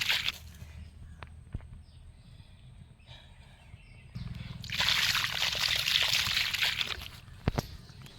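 Water is poured onto flowering plants in a shaded home garden, with a few seconds of quiet handling before a steady splashing, sloshing pour that runs for about three seconds and then stops.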